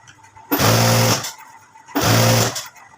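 A sewing machine stitches blouse lining to the main piece in two short bursts of rapid whirring, each about half a second long, with a brief pause between them.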